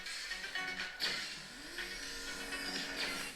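Racing car engine sounds from the Asphalt 9 video game play on an iPad Air M2, faint revving and accelerating with rising engine pitch and brief tire noise, continuous and fairly quiet.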